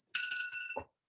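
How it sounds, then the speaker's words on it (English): A phone alarm goes off in a brief, close, steady electronic tone lasting under a second, during an online English group lesson, with no talk over it. "that's my alarm"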